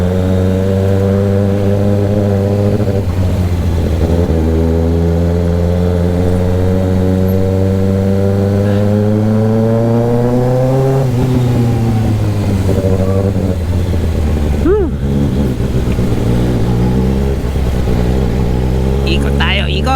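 A vehicle engine held in first gear roars loudly and up close while driving slowly in traffic. Its droning pitch climbs gradually, then drops and settles. A voice is faintly audible beneath the engine.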